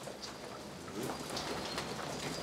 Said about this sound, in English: It's raining outside, take a look out there.